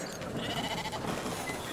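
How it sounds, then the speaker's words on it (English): Sheep bleating in the video game Brothers: A Tale of Two Sons, a wavering bleat over a steady wash of ambient game music and background noise. "Get the sheep."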